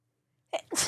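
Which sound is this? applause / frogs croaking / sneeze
sneeze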